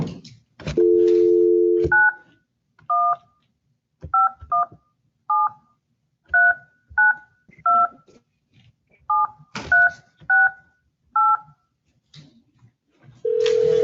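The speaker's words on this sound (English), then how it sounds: "I'm going to be dialing you right now." Telephone keypad DTMF tones sound one after another, about a dozen short dual-pitch beeps in an irregular rhythm, preceded by a longer tone and followed by another near the end, loud and clear with no talk over them.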